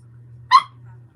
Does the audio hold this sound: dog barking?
yes